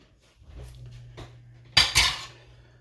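Flour for noodle dough scraped into a bowl, heard as two sharp, close scraping clatters near the end, with lighter knocks before them in a quiet kitchen.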